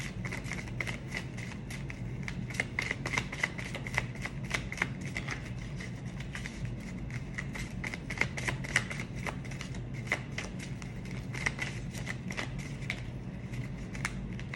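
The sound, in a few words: shuffling tarot cards to draw one more card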